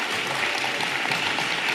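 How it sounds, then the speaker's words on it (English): Steady, dense applause from a crowd at the Schools2030 Global Forum 2023, an education conference, sustained throughout with no pauses. "A huge round of applause."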